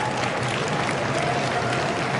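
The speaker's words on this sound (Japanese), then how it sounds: "大きな拍手をお願いします" Applause from a racecourse crowd before the winning jockey's interview after the Victoria Mile rolls as a fairly distant, even wash of clapping with no clear voices.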